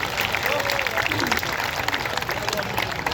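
An audience at a comedy poetry gathering applauds, giving dense, steady clapping that fills the whole stretch, with faint voices underneath.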